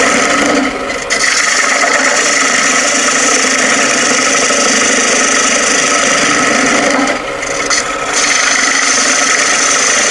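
A lathe turns while a woodturning tool takes light cuts, a loud, continuous rasping scrape over a motor hum with two brief lifts of the tool.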